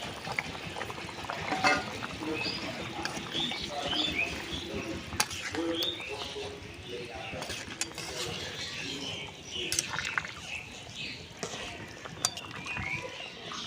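Mutton curry broth with potatoes bubbling at a steady boil in a pot over a village cooking fire, a dense continuous simmering texture with birds chirping outdoors throughout.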